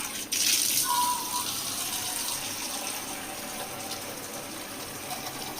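Tap water runs steadily, close by, while prawns are washed in a kitchen. The gushing flow is loud at the start, then settles into an even stream with no talk.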